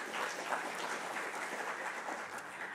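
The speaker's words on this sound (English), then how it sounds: "So a round of applause for Bracco, please." An audience at a medical conference session claps steadily for a sponsor, a dense wash of applause that holds at an even level for a few seconds.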